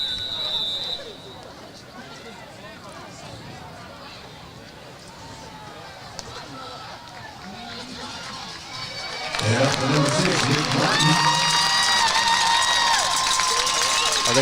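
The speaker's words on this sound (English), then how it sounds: "The fans were cheering real loud all of a sudden." Football crowd at a Pleasant Grove vs Paris game bursts into loud cheering partway through, a sustained roar replacing the quieter murmur of chatter beforehand and continuing to the end.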